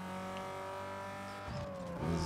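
Cars race in Need for Speed Underground 2, a steady engine drone with tonal whine that shifts pitch as another car approaches from the opposite direction, ending in a louder rush.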